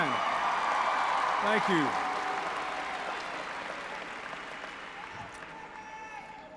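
Applause from a big crowd at a 1996 political rally in Columbus, Ohio, fills the space as a dense, steady clatter of clapping that slowly thins and fades, with someone briefly speaking over it.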